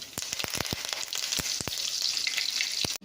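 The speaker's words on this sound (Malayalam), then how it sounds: "പാവയ്ക്ക വറുത്ത എണ്ണയിലോട്ട് തന്നെ നമ്മൾ കടുക് പൊട്ടിക്കുവാണേ." Mustard seeds spluttering in hot oil left from frying bitter gourd: rapid, irregular sharp pops and crackles over a continuous sizzle, close and fairly quiet, ending abruptly.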